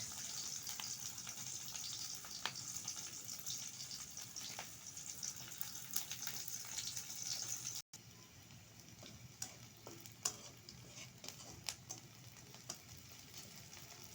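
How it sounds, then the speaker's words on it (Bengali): Onion, green chilies and spice paste fry in oil in a wok for a mixed small-fish bhuna, giving a soft, steady sizzle with scattered crackles and light stirring clicks throughout. "তো কাঁচামরিচ আর পেস্ট ভালোভাবে ভেজে নিলাম"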